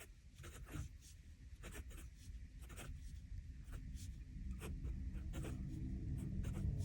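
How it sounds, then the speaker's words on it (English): A Nahvalur Original Plus fountain pen writing a fine line on paper, giving close, steady scratchy strokes with short rhythmic taps and glides over a low room hum, without speech. "Pen is comfortable to write with."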